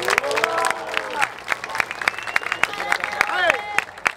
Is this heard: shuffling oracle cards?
no